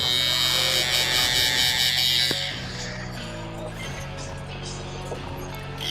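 Electric hair clippers buzz steadily while skinning out the sides for a skin taper on a fauxhawk haircut, a close, loud hum that drops slightly in level partway through, with faint voices underneath.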